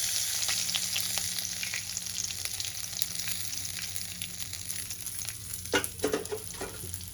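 Katla fish pieces fry in hot oil in a home kitchen, a steady bright sizzle running throughout, with a few louder crackles and spatters near the end and no talking.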